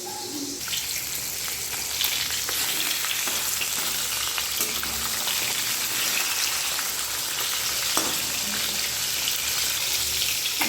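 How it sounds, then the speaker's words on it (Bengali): Fresh fish frying in oil in two kadais: a dense, steady sizzle with occasional stirring clinks, loud and close throughout, no talking. "সেজন্য দুটো কড়াই মাছ ভাজা চলছে"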